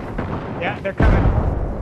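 Artillery barrage in Apex Legends, a heavy booming blast hitting midway and rolling into a sustained loud rumble, with lighter game noise before it.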